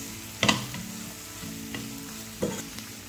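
Brinjal masala cooks in a pan with a soft, low sizzle, and three brief scraping stirs stand out against quiet background tones.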